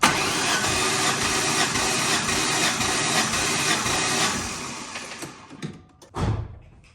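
A Mustang Cobra engine cranks over steadily during a cylinder compression test, a loud continuous churning drone for several seconds that winds down, followed by a brief final thump and quiet.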